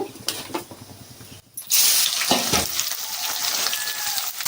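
Finely sliced small onions dropped into hot oil already crackling with curry leaves, for an Andhra-style prawn fry, bursting into a loud, steady sizzle after a short quiet gap, with stirring clatter before and after.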